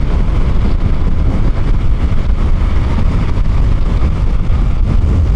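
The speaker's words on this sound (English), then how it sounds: "we just roll into the throttle a little bit and she will collect some mile an hour very nicely" A Yamaha R7 motorcycle engine drones steadily and close as it accelerates, a continuous deep rumble with no talk over it.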